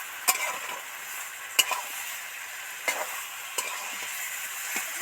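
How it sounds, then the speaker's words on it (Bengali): Taro and hilsa fish head sautéing in a pan with a steady sizzle, as a spoon scrapes and stirs at regular intervals with a sharp clatter about every second, close and alone. "পাঁচ মিনিট একদম ধরে ধরে কষতে থাকবো"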